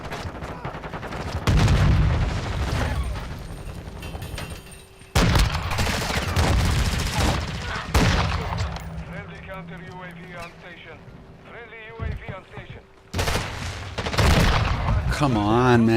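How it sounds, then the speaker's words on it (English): Call of Duty League match gunfire from a player's weapon, loud bursts of shots over near-constant excited commentary and player chatter, with several loud bangs and quieter stretches between. "You can hear my gun."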